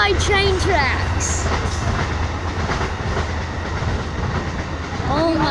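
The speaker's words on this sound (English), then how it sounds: "We live by train tracks." A train rolls along nearby tracks by a house and creek, a steady loud rumble with rhythmic rail clatter, and people talk over it.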